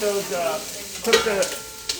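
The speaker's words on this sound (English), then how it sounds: "you can hear it sizzling at the heat" Diced onion sizzles and crackles steadily in hot olive oil in a pan, with a few stirring scrapes cutting through the frying hiss.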